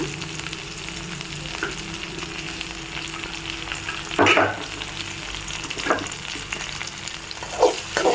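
Ingredients for keerai kadayal sauté in a pan with a continuous close sizzle, broken by a few louder stirring scrapes and knocks of the spoon.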